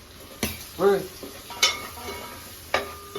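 A non-veg curry cooks in a covered pot on a stove, giving a soft steady sizzle broken by a few sharp metallic clinks of utensils against the pot.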